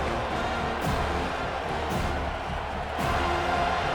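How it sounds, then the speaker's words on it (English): Crowd noise from a simulated EA College Football 25 game, California at Florida State, swells steadily as fans back the defense on third down. It is a continuous, dense roar with a few brief surges. "Decibels rising as the crowd gets behind this defense on third down."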